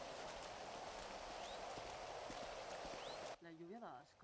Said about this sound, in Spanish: La lluvia da asco, tío.